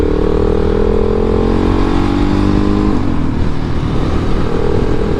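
Indian Scout motorcycle engine revving and droning loudly and close, with a steady rising pitch that shifts partway through into a rougher, broader roar, with no talking.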